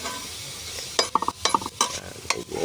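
Miso is sautéed in a pan. A quiet sizzle carries a series of quick scraping and clinking strokes from a utensil against the pan, bunched into short uneven bursts, close up.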